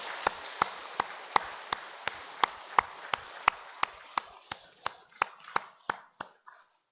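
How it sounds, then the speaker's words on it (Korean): A church congregation at a Sunday worship service claps in welcome, a faint, slightly distant run of about twenty evenly timed claps in unison that thins out and stops. "우리 모든 분들 환영의 박수로 뜨겁게"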